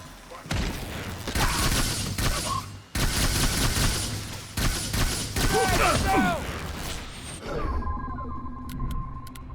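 Battle in The Bureau: XCOM Declassified, with rapid bursts of gunfire and grenade blasts close by, dense and loud, ending in a mechanical hum, while voices shout over the combat.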